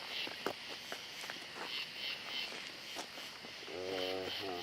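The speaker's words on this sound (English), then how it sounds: "I heard, like, light footsteps" Light footsteps scuff softly and irregularly along a path in a park at night, with a steady chorus of insects around them and a voice rising near the end.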